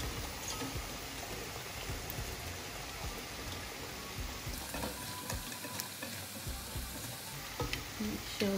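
Chicken gizzard frying in a pan for gizdodo with plantain, a dense continuous sizzle close up with scraping stirring strokes throughout and no talking.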